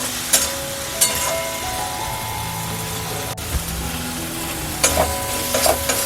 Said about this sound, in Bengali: দিয়ে আমি এগুলো একটু ভালো করে কষে নেব।